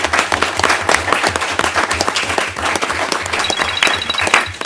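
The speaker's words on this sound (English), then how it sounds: "Please give David a round of applause." An audience claps loudly and steadily, close-up and uneven, a few seconds of lively applause with no speech over it.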